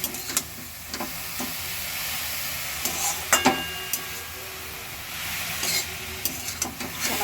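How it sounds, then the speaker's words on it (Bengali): Milk boils with grated carrots in a pot for carrot halwa, giving a soft, steady hiss and bubbling, punctuated by occasional spoon taps and scrapes. "দুধটা ফুটুক কিছুক্ষণ, তারপরে গাজরটা দিয়ে দেবো এর মধ্যে।"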